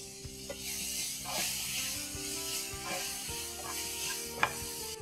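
Tomatoes sautéing with onions in a pan, a close soft sizzle broken by repeated stirring scrapes and a sharp clink of the spatula near the end.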